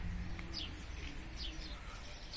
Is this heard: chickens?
no